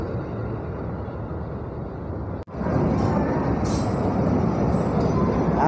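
A KRL commuter train passes in Daop 1, a loud, steady rumble of wheels and carriages that runs almost without a break, cut by a brief drop partway through, with faint squeals high above the roar.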